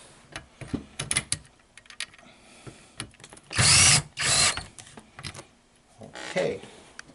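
A power drill tightens a fastener on a chaise lounge in two loud bursts, with a shorter third run afterward, between softer handling clatter and some nearby talk.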